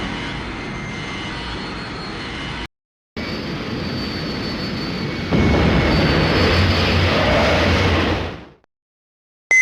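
A spacecraft engine roars during takeoff in the PlayStation game Space Griffon VF-9: a loud, steady jet-like rumble that cuts out briefly, returns even stronger, then fades quickly to silence.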